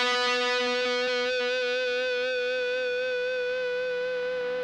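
A Parker Nitefly electric guitar played through distortion rings out as a single sustained, harmonically rich note with a sharp attack, decaying slowly and evenly over several seconds until it is cut off, alone with no talking.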